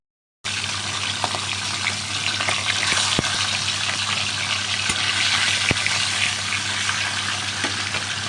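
Continuous hissing sizzle of boal fish frying in hot oil, steady throughout with occasional sharp pops and crackles.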